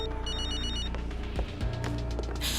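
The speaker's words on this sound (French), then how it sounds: "Ton téléphone?" A phone rings with repeated bright electronic bell tones over a busy background of music and ambient noise, fairly loud and continuous.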